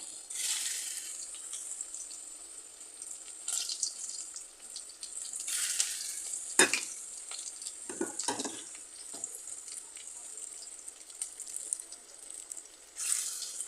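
Onion fritters made with gram-flour batter sizzle in hot oil, a steady bright crackle with a few sharper clatters as pieces are added, close and clear with no talking.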